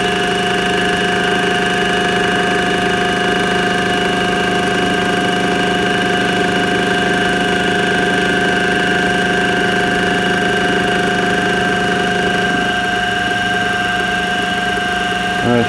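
A face end mill takes a flat cut on a hand-cranked milling machine with kerosene oil mix: a steady, loud machine drone with strong humming tones, continuous and close, shifting slightly near the end.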